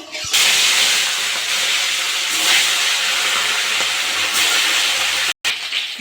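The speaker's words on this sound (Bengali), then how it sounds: "মাছগুলো এক সাইড ভাজ হয়ে গেছে আমি উল্টে দেবো" Tilapia pieces fry in hot mustard oil in a kadai on a gas stove, giving a loud, steady broadband sizzle that runs almost unbroken and drops out for a moment near the end.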